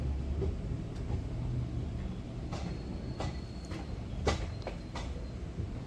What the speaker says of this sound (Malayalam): വിരുദ്ധനഗർ ജംഗ്ഷൻ റെയിൽവേ സ്റ്റേഷനിലേക്ക് വണ്ടിയെത്തി